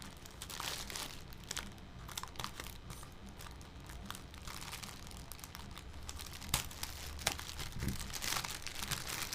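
Plastic bag crinkling while a package is unboxed, near and fairly quiet, with continuous rustling and scattered sharper crackles.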